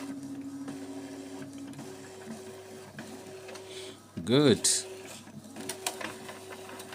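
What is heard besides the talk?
Epson printer making a copy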